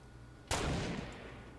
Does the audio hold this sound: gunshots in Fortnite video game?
yes